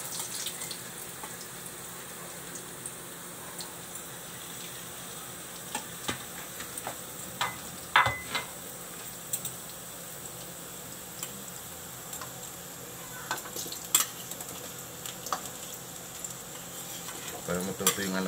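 Potatoes fry in a pan with a steady soft sizzle while a utensil stirs them, making irregular scraping clicks and taps against the pan, close by, with no voices.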